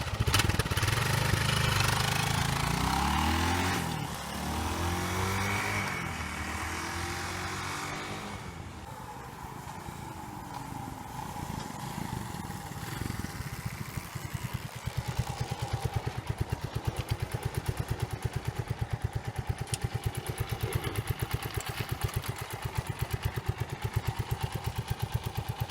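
A Honda TLR200 Reflex trials motorcycle, its engine taken from the XR200, revs up loudly at first, then settles into a steady, pulsing run close by.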